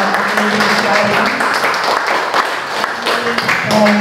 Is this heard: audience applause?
yes